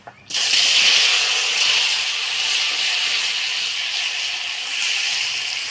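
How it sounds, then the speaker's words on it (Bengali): Taro pieces hit hot oil seasoned with dried red chilli and whole cumin, bursting into a loud, steady sizzling hiss that holds strongly from the start and tapers only slightly. "এবার কচুর মুখিগুলো দিয়ে একটু নাড়াচাড়া করে নিব"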